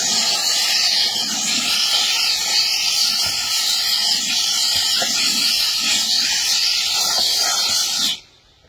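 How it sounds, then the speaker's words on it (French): A steam cleaner runs continuously with a loud, steady hiss of escaping steam, close and unbroken for several seconds before cutting off abruptly at the end, with no one talking. "Alors, le nettoyage vapeur, vous n'allez pas entendre grand-chose, mais ou plutôt vous allez entendre que le bruit de l'appareil."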